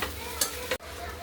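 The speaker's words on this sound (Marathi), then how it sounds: "भिजवलेले पोहे आणि काकडी घालायची. आता हे मिक्स करून घेऊ." Soaked poha flakes and cucumber being mixed in a pan, a short burst of soft scraping and stirring over a faint steady hiss, ending with a brief clack.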